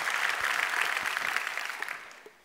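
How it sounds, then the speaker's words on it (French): Audience applause at a forum welcome session, a steady wash of clapping from many hands that fades out toward the end. "On peut déjà l'applaudir."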